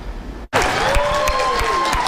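A crowd applauds steadily with dense, overlapping claps that start abruptly after a brief silence, a faint tonal hum running beneath the clapping.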